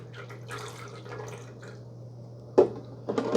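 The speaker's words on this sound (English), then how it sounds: "So we are still filtering water." Water drips slowly through a Brita UltraMax 18-cup filter dispenser, with soft irregular droplets and a couple of louder splashes near the end over a low steady hum; no one speaks.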